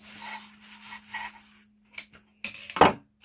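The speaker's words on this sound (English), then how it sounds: "Trimming my threads." Threads being trimmed after sewing a fabric bag with a D-ring, heard as a few short, close snips and rustles near the end following quiet handling.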